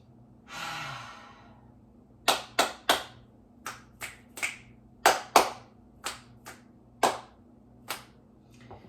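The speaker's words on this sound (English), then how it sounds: "Getting in a few clap snaps for good measure." Hand claps and finger snaps closing a short stretch and sun salutation workout, about a dozen sharp, close, separate hits in an uneven rhythm after a soft exhale.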